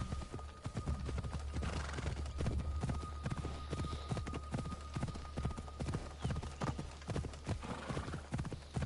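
The winged horse Pegasus in Assassin's Creed Odyssey gallops with a fast, steady clip-clop of hooves and gives a whinny, all over continuous game background sound.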